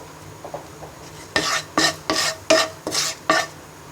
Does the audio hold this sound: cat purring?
no